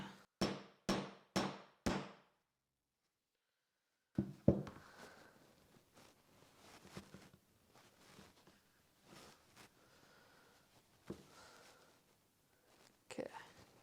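Diamond chisels are hammered through leather to punch stitching holes. Four sharp, evenly spaced mallet strikes come first, then after a pause a scattering of softer taps and light handling noises, close and dry.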